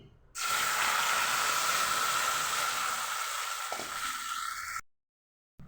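Boiled chana dal tipped into a hot kadai bursts into a loud, even sizzle and hiss that holds for about four seconds, then fades out abruptly.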